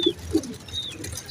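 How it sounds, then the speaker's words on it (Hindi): Golden and Sialkoti mix pigeons cooing in a loft, a couple of soft low coos near the start followed by faint chirps and light background noise. "गोल्डन, सियालकोटी मिक्स कबूतर हैं"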